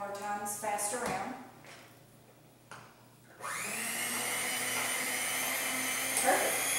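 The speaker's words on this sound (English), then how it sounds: "then you can mix it all up again with the blender" A blender mixing Valentine's dessert batter starts up midway after some quieter kitchen clatter, then runs as a loud, steady, high-pitched whir right to the end.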